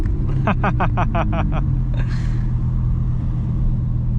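A supercar engine revs with both paddle shifters held back, a rapid burst of sharp popping pulses followed by a loud deep rumble that lingers, close and strong.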